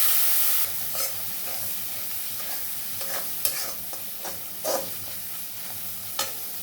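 Spice masala with fried potatoes being stirred and fried in a pan for a fish curry: a hissing sizzle under repeated scraping strokes of a spoon, close and moderately loud, with no talk.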